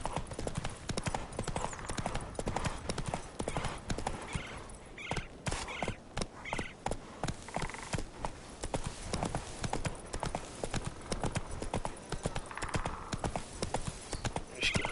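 Steady clip-clop of horse hooves from a galloping mount in The Witcher 3, a fast, continuous rhythmic beat running throughout with a brief whinny and faint game sounds mixed in.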